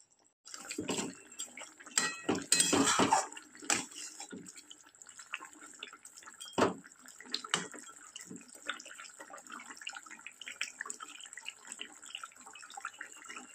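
Fried puti fish goes into a pot of simmering kohlrabi and potato curry, with scattered clinks, splashes and wet bubbling close by, loudest early on and then settling into quieter intermittent clatter.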